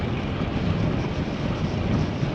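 Steady, loud wind roar buffets the microphone of a cyclist riding along a country road into a headwind, a continuous broadband rush with no gaps and no talking.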